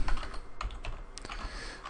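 Quick, uneven clicks of fingers typing on a computer keyboard, close and distinct, with no talking.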